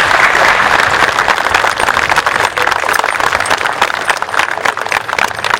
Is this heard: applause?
yes